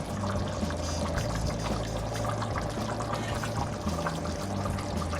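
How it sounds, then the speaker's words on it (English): Cooked peas are spooned out of a pressure cooker into a pot of hearty beef chili, giving a continuous close wet pouring and sloshing sound without talk. "I'm just gonna spoon them in instead of lifting the heavy pressure cooker."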